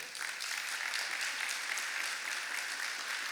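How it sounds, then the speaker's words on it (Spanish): A church congregation applauds together during a Sunday service, giving a steady, full round of clapping that stays even and loud for a few seconds with no voices over it. "Denle un aplauso a Dios por eso."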